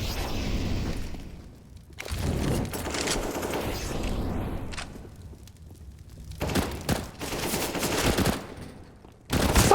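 Rapid automatic gunfire from a Counter-Strike match on the Mirage map, with repeated loud bursts broken by short pauses and a final sharp volley.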